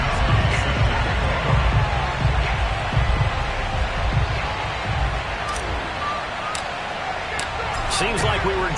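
Stadium crowd noise from the Madden football video game, a sold-out crowd as the New England Patriots face the Philadelphia Eagles, a steady roar of cheering and babble with occasional sharper bursts throughout.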